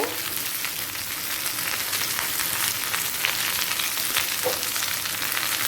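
Eggplant, beans, radish and carrot fry in a pan for a Bengali vegetable labra, giving a steady, close, dense sizzle that runs unbroken throughout.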